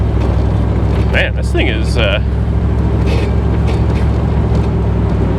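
A 1975 Bricklin SV-1 driving and accelerating in snow, its engine a steady loud low rumble with road noise throughout the cabin, while someone talks briefly over it.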